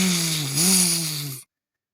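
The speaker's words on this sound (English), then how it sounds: "Why, man, I hear a chainsaw." A chainsaw running in a short horror film, loud steady buzzing engine drone with a brief rise in pitch midway before cutting off abruptly to silence.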